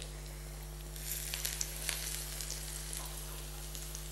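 Steady crackling sizzle of crumb-coated fish frying in hot oil, with brighter pops and spatters rising briefly, close by and alone.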